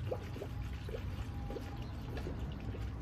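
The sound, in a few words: coolant being poured into car radiator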